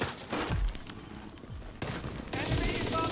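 Automatic gunfire in The Division 2 at the Union Arena stronghold, several sustained bursts rattling across the clip, loud and close with brief gaps between volleys.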